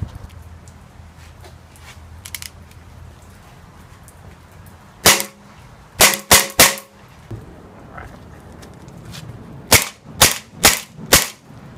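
A Beretta M92A1 airsoft pistol firing indoors, with three quick snappy shots, a pause, then a faster burst of four crisp cracks, close and loud over quiet background hum, with no speech.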